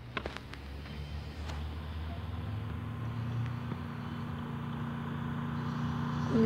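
In the Free Fire battle royale game, a car engine hums low and steady, growing louder toward the end as the vehicle approaches, with a few faint clicks over it.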